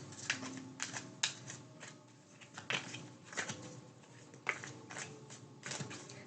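Tarot cards from the Hermit Tarot deck being shuffled and drawn, heard as quiet, close riffles and papery flicks in irregular bursts with no speech.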